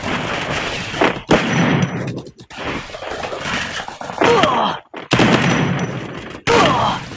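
M1014 shotgun blasts fire in a shooting video game, loud repeated booming shots in quick bursts over dense in-game gunfire and explosions.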